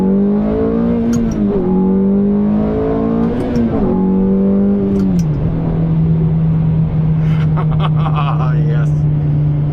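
A Ferrari 430's engine revs up and settles into a steady droning idle, loud and close, with a throttle blip midway and faint chatter behind.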